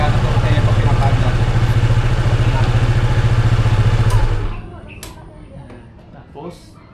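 A Honda ADV 160 scooter engine idles close by with a steady, loud, even putter, then is switched off and falls quiet, leaving faint clicks and handling noises.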